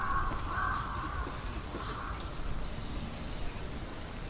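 Crows cawing in the video game Hellblade: Senua's Sacrifice, a steady harsh calling over a dense, rain-like ambient wash with no speech.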